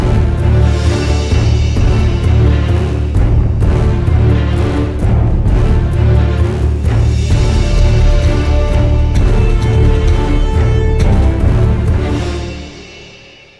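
Dense, loud orchestral music from the East West Hollywood Fantasy Orchestra sample library, with sustained strings and layered instruments playing continuously, then fading out at the end, no voices.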